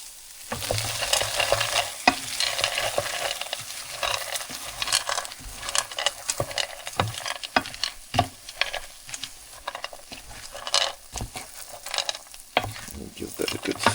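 Chicken for fried rice fries over medium heat while being stirred, a constant close sizzle broken by frequent scraping and clattering strokes of the utensil against the pan in an irregular rhythm.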